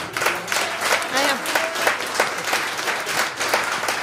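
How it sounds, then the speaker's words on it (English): Audience clapping at the grand finale of a startup competition in Prague, a moderate crowd applauding in uneven bursts with cheers and voices mixed in, fairly close and steady throughout. "a round of applause for everyone who was here today"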